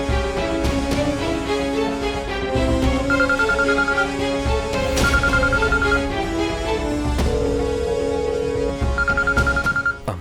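A phone rings with an incoming call, its ringtone melody repeating in regular phrases over soft background music, fairly loud and close with no talk.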